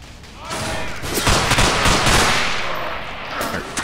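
Sustained automatic gunfire in the video game Underhell, a dense rattling barrage of shots with scattered louder bursts, loud and continuous throughout, with a voice faintly present beneath.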